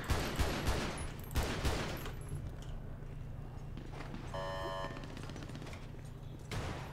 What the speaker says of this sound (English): Got one more shooting.